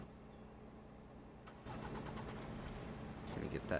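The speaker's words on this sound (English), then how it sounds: "Gonna get that truck started up, that way I can start to fill the airbags." A truck in Farming Simulator 22 cranks and fires up midway, shifting from a quiet hum into a steady mid-pitched idle that grows slightly louder toward the end, with some talk over it.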